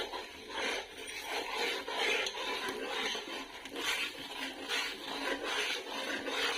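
Edible gum frying in roasted flour in a pan while being stirred for adadiya, a winter sweet: a steady scraping and rasping of the spoon against the pan, soft and continuous, with no talking.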